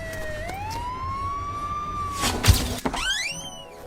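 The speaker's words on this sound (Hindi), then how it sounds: "वो दे एम्बुलेंस आगे" An ambulance siren wails in a long rising and falling tone, then breaks off in a burst of noise and a thump before the wail sweeps upward again, moderately loud and without talk.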